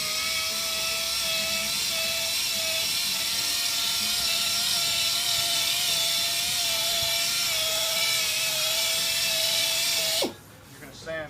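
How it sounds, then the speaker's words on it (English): A car headlight being sanded with 500 grit sandpaper on a power tool, run slowly, producing a steady, close whirring drone with a fixed tonal whine that cuts off abruptly near the end. "You're going to sand all this off."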